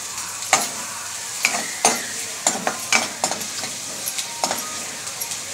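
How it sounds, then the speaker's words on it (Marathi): Onion frying in a pan for a prawn curry gives a steady, close sizzle, broken by repeated scraping and clinking as it is stirred with a utensil, with no talk. "इथे कांदा भाजत आहे"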